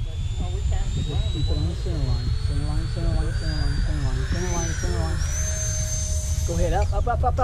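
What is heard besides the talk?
E-flite Habu RC jet taking off at full throttle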